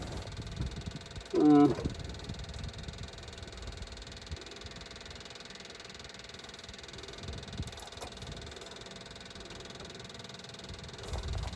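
A 1955 Ford grain truck engine runs at a steady, low idle throughout, with a brief exclaiming voice near the start.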